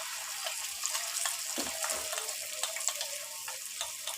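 Eggs hiss and sizzle in a hot pan, a bright, steady frying crackle close by, with a few soft knocks and no speech.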